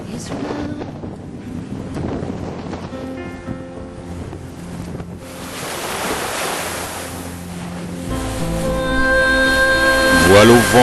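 A boat strains at anchor in a bay on the Moroccan coast in a 40-knot wind, with a continuous gusty roar and surging water growing louder toward the end, partly under tonal music.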